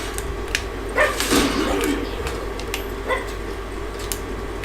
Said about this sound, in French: Je croyais que c'était le chien du jeu qui aboyait, mais non, c'est en fait c'est ma chienne